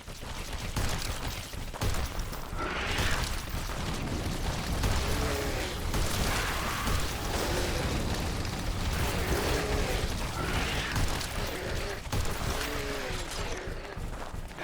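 Buildings blow up in the video game The Riftbreaker, a loud, continuous roar of overlapping blasts and rumbling booms with a voice speaking intermittently over the din.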